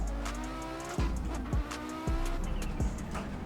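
An Audi Quattro drives along, its engine droning steadily and rising and falling in pitch through gear changes, with a few brief louder surges.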